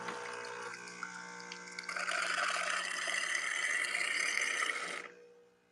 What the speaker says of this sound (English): Got your hot water over here.